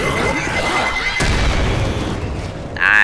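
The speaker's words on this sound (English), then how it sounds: "Throwing a pipe bomb!" A thrown pipe bomb goes off in the Left 4 Dead video game with a sudden loud boom that blasts through dense, continuous game noise, followed by rumbling debris.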